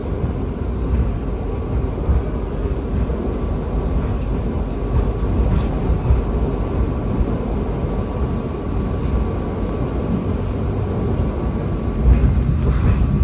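A KA Pasundan passenger train crosses the Cirahong bridge, heard from inside the carriage as a steady low rumble and roll that holds evenly throughout, with a slight bump near the end.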